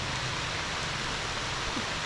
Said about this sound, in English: there you can see the rain coming down